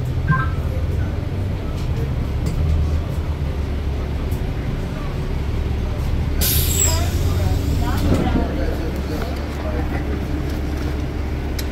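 A city bus pulls up on a busy street, a sharp hiss of air brakes rising over steady low engine rumble and traffic noise, with people talking nearby.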